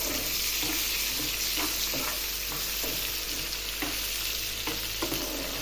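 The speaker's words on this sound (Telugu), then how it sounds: "ఇప్పుడు ఇది బాగా ఎర్రగా వేగనిద్దాము" Tempering for gongura dal fries and sizzles in a pan with mustard seeds and fenugreek powder, a continuous bright hiss punctuated by soft crackles and stirring scrapes, close and steady without talk.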